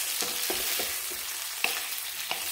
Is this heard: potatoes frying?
yes